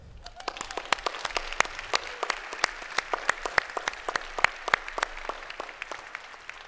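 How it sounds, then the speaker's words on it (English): Members standing at a credit union annual meeting applaud in a large hall, a broad wash of clapping with distinct sharp claps popping out repeatedly, moderately distant and steady throughout. "Let's have a round of applause for all of you."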